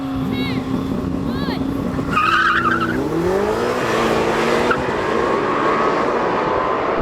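A Lamborghini Temerario and a Ferrari SF90 launching side by side in a drag race, engines rising sharply with tyre squeal and revving pitch climbing through gears, loud and close, with brief talk.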